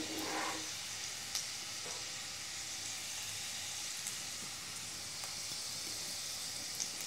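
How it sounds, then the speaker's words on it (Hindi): Garlic fries in oil for a sarson ka saag tempering, giving a soft, constant sizzle with a few faint ticks and pops and no talking. "ये देखिए लहसुन हमारा पकने लग चुका है"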